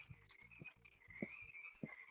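Frogs croak outdoors at night in a slow series of low, rough calls, about one every half second, over a steady high insect trill, faint and distant with no talk.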